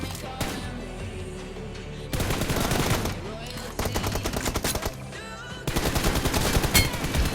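Gunfire in the mobile battle royale game PUBG Mobile: several loud bursts of rapid automatic fire, separated by brief pauses and growing denser toward the end.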